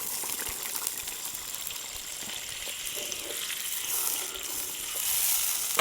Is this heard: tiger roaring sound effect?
no